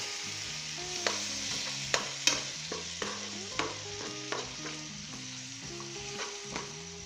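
Tomatoes and masala fry and sizzle in a pan while a spoon stirs them, giving a steady close hiss with repeated scraping and clinking strokes, with no talking.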